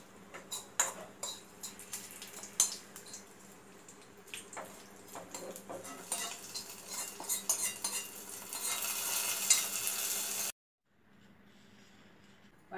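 A hot tempering of mustard seeds, dried chili and curry leaves is poured into a carrot pachadi, giving crackling sizzles and spoon clinks that build toward a loud hiss before cutting off into quiet.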